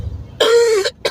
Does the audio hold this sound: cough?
yes